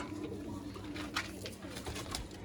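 Caged pigeons, green-and-white pairs in a breeder's loft, make soft low coos and bird calls at a steady moderate level with faint background noise, and no clear talk is heard.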